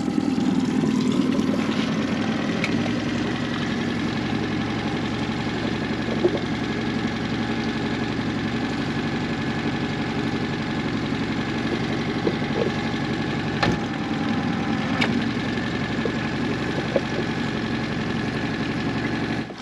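A boat engine idles steadily with a low, even mid-pitched hum and faint knocking as the boat creeps slowly toward the bank of the Danube, close and continuous with a couple of light knocks.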